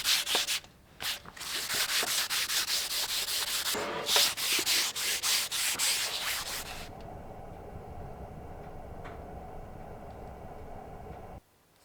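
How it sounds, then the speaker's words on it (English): Continuous harsh sanding on cast iron down to bare metal, loud and steady, with brief pauses and rhythmic strokes, then a quieter grinding hum that fades out near the end. "sanding the cast iron back to bare metal was obviously not necessary"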